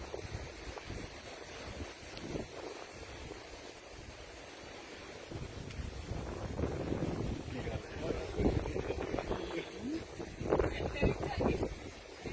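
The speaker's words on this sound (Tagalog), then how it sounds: "Medyo malakas ang hangin" Strong wind on Mount Dandenong buffets the microphone in rough, gusty rumbles that grow stronger midway, with people talking underneath.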